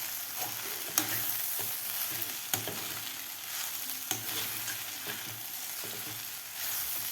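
Poha being stirred into hot tempering in a pan gives a steady soft sizzle, broken by sharp clicks of the spoon against the pan every second or so.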